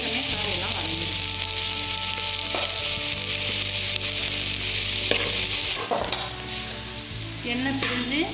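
Vegetables sizzling steadily in hot oil while sautéing for fried rice, a loud continuous frying hiss with occasional stirring scrapes and a low hum underneath.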